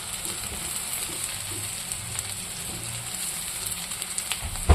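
Food frying in a pan gives a steady, even hiss and crackle with faint clinks and stirring now and then, running without a break throughout.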